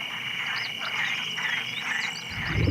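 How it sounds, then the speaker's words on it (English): Common tree frogs calling at night in the wilds of Extremadura, a dense, continuous chorus of rasping croaks that rise and fall together, steady and fairly close, with no voices. "in the quiet of the night, the common tree frogs seek protection"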